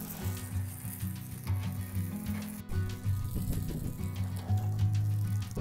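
Salmon crackles and sizzles over an open wood fire, a close, continuous hiss dotted with small pops and a low steady hum beneath.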